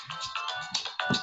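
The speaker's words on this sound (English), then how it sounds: "I forgot just to switch off my phone." A mobile phone ringtone chimes in a quick repeating melodic pattern, several bright bursts in a row, close and clear in a meeting room with no talk over it.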